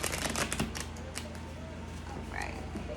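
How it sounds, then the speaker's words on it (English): Tarot cards shuffled by hand during a reading, giving a steady run of soft papery riffles and flicks, close and moderately loud, with faint room noise behind. "One more shuffle."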